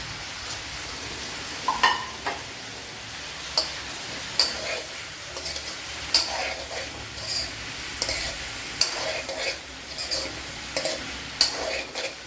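Chopped okra frying in a pan, a soft steady sizzle with scattered clicks and stirring scrapes, fairly quiet and close with no talking.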